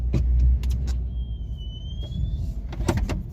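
A car engine idles after a fuel pump change, a low steady rumble close by with a few clicks and knocks and a brief thin whine partway through.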